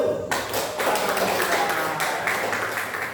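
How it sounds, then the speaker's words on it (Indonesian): Classroom applause for a student group, a scattered patter of clapping hands in a room, moderately loud and steady for a few seconds. "Kasih aplaus untuk kelompok 1."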